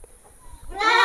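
A PE (Peranakan Etawa) goat gives one loud, close bleat that starts near the end after a quiet stretch with faint background noise.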